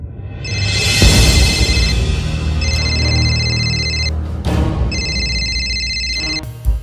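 An animated telephone rings loudly in repeated electronic bursts, two long trilling rings separated by a short pause, over a busy background.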